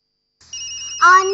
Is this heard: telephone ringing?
yes